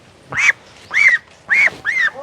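Bengal ducks kept in a farm garden quack loudly and close, four separate nasal calls in a steady rhythm with brief silences between, no speech.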